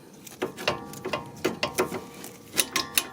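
Ratchet wrench clicking in short bursts while a bolt on the front brakes of a 2011 Nissan Versa is tightened to 70 foot-pounds, close up, with irregular groups of sharp metallic ticks and no talking.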